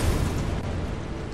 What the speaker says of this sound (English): Car explosion.